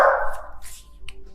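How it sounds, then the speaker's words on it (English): Dogs bark indoors in a home, a loud burst at the start that trails off into quieter yelps and scattered noise; no one speaks. "Please ignore my dogs."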